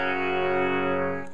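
An electric guitar chord rings through an Egnater Rebel 30 amp head with the bright and tight switches on, one sustained bright, sparkly tone that holds steady and fades, without talk.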